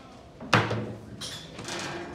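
An elevator door is opened by hand during a rescue training drill: one sharp metallic clunk, then a softer sliding scrape and faint rattling at a quiet level.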